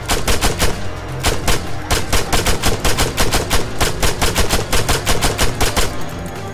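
Sustained automatic gunfire in Arma 3, aimed at an e-bike's fuel tank, comes as loud, rapid, evenly spaced shots in long close bursts with only a brief pause between them.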